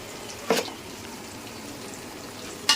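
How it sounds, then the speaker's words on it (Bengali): Ginger garlic paste frying in a pan gives a low, soft sizzling hiss, broken by two brief louder bursts of spatter or stirring, one near the start and one at the end. "আদা রসুন বাটাটা একটু ভালোভাবে ভেজে নেব।"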